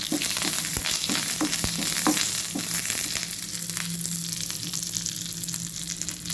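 Mustard seeds, crushed garlic and curry leaves sizzle and crackle in hot oil, a busy hiss with sharp pops and stirring clatter near the start, then a steadier fry, close and unvoiced.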